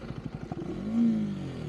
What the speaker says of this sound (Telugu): బైక్ అయితే స్టార్ట్ అయిపోయింది.